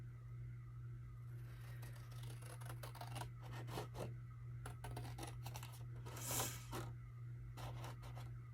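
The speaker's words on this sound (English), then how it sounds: "I'm going to cut right down this line" Scissors snip through paper along a drawn line for a 12x12 passport folio craft project, giving a run of crisp scraping cuts in uneven bursts over a low steady hum, close and fairly quiet, with no talking.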